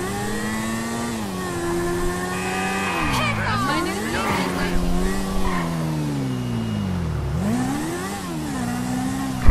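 A motorbike ridden in GTA V, its engine revving up and down in repeated sweeps as gears shift, loud and close, with a brief burst at the very end.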